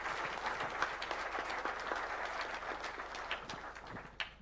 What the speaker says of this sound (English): Please, let's put our hands together for a round of applause.